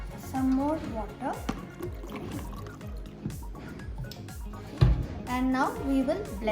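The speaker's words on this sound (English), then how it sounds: "Some more water" Water pours into a blender jar for a chocolate and pineapple Herbalife shake, a trickling, splashing stream with a small thump midway, under a speaking voice.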